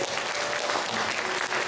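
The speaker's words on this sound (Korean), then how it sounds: "성도 여러분께서는 박수로 환영해 주시기 바랍니다." A church congregation applauds newly baptized members during a Sunday baptism service, a steady, full burst of clapping filling the hall without a break.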